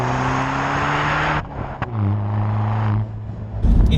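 A BMW 114i tuned to 223 bhp drives off on a cruise, its engine droning loud and close with tones rising and falling through gear changes, heard alone without talk.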